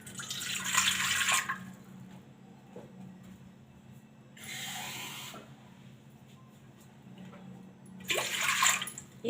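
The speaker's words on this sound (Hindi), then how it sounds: "ये 1 गिलास पानी हमने इसमें ले लिया है।" A glass of water poured into the base of an idli maker in a home kitchen, three short splashing pours separated by quiet pauses, close and fairly soft.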